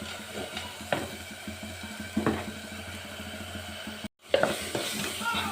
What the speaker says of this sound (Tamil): அதுக்கப்புறம் நம்ம அந்த தக்காளி கடைஞ்சி வச்சுருக்குறோம், அதை நம்ம சேர்த்துக்கலாம்